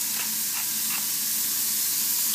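Shrimp sizzle steadily in a hot pan with salt and cracked black pepper, a close, bright, continuous hiss with a few faint pops.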